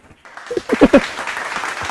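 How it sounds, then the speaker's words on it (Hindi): Clapping from a classroom audience of students celebrating exam results, a few scattered claps swelling into a short burst of applause, with faint voices underneath. "अरे कंजूस लोग ताली तो बजाओ।"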